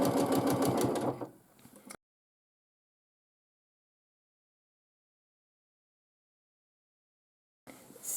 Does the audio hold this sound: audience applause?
no